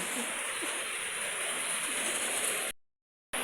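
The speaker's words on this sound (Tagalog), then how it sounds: "ulan-ulan." Steady rain falls outdoors at night around a rural Filipino home, a continuous even hiss with no voices, cutting to silence near the end.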